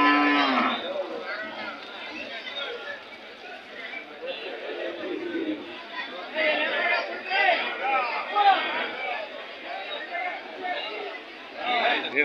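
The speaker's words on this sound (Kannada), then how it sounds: "ಎತ್ತುಗಳಲ್ವಾ?" Bullocks lowing at a busy temple cattle fair in Gubbi taluk, deep moos rising now and then over a steady crowd chatter and nearby talk throughout.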